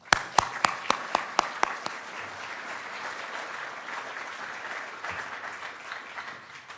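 An audience welcomes speaker David Kilcullen at the US Study Centre, opening with a few loud, sharp claps that swell into sustained applause from a roomful of people.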